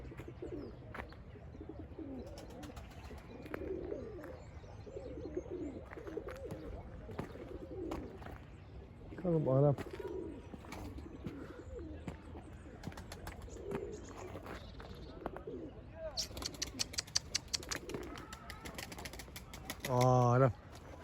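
Arab breed pigeon cooing in soft repeated phrases, with other bird chirps around and a louder burst of calls near the end; someone speaks intermittently.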